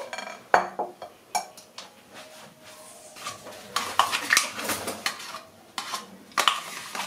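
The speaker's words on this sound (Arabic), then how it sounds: "دابا غادي نخلطوا هذا الخليط ديالنا الطبقه الثانيه" Second-layer mixture for a chilled layered yogurt mirror cake being stirred in a bowl, with scattered clinks and scrapes of a utensil against the dish, irregular and close, no talking.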